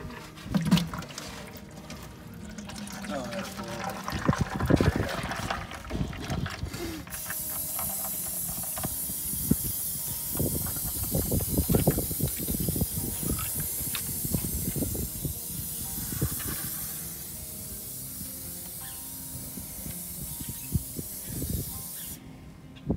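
A steady hiss of hydraulic oil spraying out as an Allis Chalmers 170 tractor is drained, running continuously with scattered splashing and clunks nearby.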